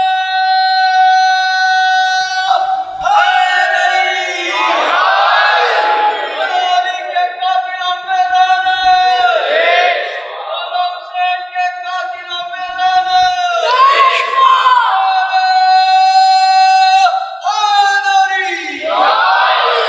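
A large congregation at a Shia majlis on 7 Safar shouts a religious naara in repeated loud, sustained bursts, many voices rising together in call-and-response waves across the whole stretch.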